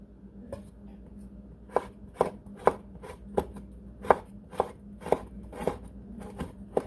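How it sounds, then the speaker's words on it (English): A knife slices chili peppers on a cutting board, sounding as a run of about a dozen crisp, close taps, steady but unevenly spaced, with no talk. "So now I'm gonna slice the chili peppers."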